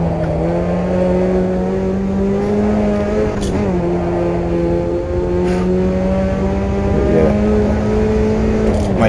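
A Puma PO52 race car engine held in third gear around the Nordschleife, a steady loud drone with rising and dipping pitch as the revs swing through corners, with no talking over it.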